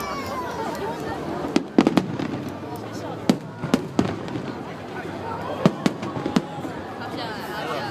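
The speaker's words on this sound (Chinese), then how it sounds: "这是毕业烟火" Fireworks at the 2012 Dadaocheng Wharf display crack and pop in sharp, scattered bursts, some in quick clusters, over a steady crowd murmur.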